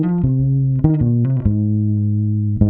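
Bass guitar through a Chroma Console pedal with vibrato and reel-style tape diffusion, several sustained notes with a slightly wavering tone, loud and upfront with no talking.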